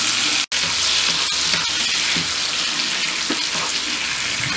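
Pieces of green apple fry in a pan while being stirred, giving a steady, close sizzle with soft scraping stirs and one momentary cut-out near the start.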